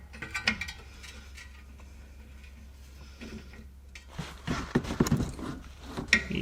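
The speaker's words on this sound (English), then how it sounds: "The cool thing about those adapters is that I can use them now with a big ratchet." A big ratchet with an adapter working on a 21 mm hex ball joint nut of a Mercedes A-Class W169, scattered mechanical clicks and metallic clunks, louder and busier toward the end, close by.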